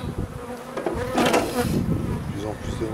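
Honeybees hum and buzz around an opened hive during beekeeping work, a close, fluctuating drone with occasional clicks of equipment.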